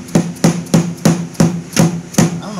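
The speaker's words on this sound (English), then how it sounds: "This is not the ideal hammer for this." A hammer strikes a bolt during bolt removal on an Airstream elevator, seven sharp metallic blows spaced evenly about a third of a second apart, loud and close, with no voices.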